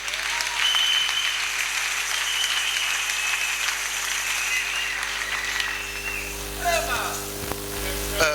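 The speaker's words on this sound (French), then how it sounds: "Une acclamation pour le Seigneur Jésus-Christ." A church congregation applauds in acclamation during a Sunday school performance, a broad, sustained wash of clapping at moderate level, with a few voices and cries rising near the end.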